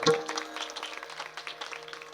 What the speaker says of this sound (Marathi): महाराजांसाठी जोरदार टाळ्या वाजवा